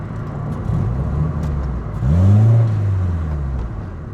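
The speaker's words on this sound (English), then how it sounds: "the supercharger is supercharging." Supercharged K24-swapped 7th-generation Honda Civic accelerating, a steady engine drone that swells into a rising, louder whine around the middle of the run before easing off, heard from inside the car with no talking.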